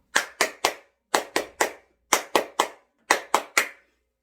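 Crisp group hand clapping in tight bursts of three, repeated four times with short pauses, from a seniors' rhythm exercise class; each clap is sharp and close, with no talk.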